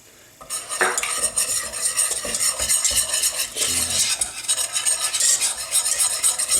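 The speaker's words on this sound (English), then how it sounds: "just start whisking that in, a bit at a time" Butter and flour sauce for mac and cheese being whisked in a pan, a steady busy rattle and scrape of the whisk against metal with faint sizzling, close and continuous.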